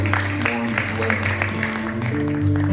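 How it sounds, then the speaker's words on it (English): A church congregation claps along during a worship service under loud music with sustained tones and voices, the clapping blending into the busy worship sound. "give the Lord a hand clap of praise"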